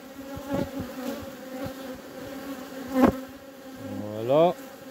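Honey bees drone steadily at an open hive while a small swarm is being reinforced with brood frames, a close, continuous buzz with a few louder passes and rising whines as bees fly near.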